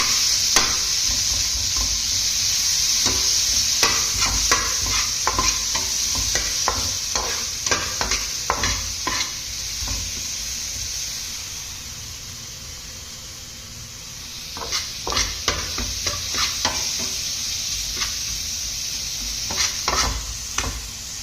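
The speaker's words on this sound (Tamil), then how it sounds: "தக்காளியை போட்டு நல்லா வந்து செஞ்சு கிண்டிடுவோம்" Steady sizzling of tomatoes frying in a pan, with repeated scraping and stirring clatters in bursts, a pause midway, then more stirring.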